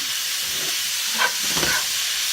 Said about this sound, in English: So then you want to stir that up